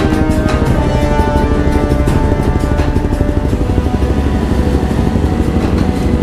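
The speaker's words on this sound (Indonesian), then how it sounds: "Wah, motor lu berisik." Loud, close motorcycle engine with a noisy aftermarket exhaust during a roadside exhaust check, a rough, steady throbbing idle pulsing rapidly and continuously, with no talking.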